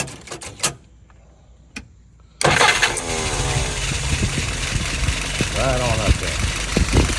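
Someone's 938 engine cranks and catches after a few faint clicks, then settles into a loud, steady, rough-textured idle. Someone speaks briefly over the start.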